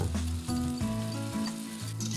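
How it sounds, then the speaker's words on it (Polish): Meat sizzles in hot oil in a pan, a steady close crackle and hiss throughout, with a faint tonal hum in the background. "przekładam mięso na rozgrzany olej i smażę je przez około 8 minut"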